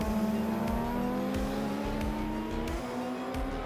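Racing cars in an AI-driven racing game, including a Honda NSX and a heavy Audi, accelerate with rising, layered engine whine. Several revs climb and overlap continuously at a moderate level, with no talk.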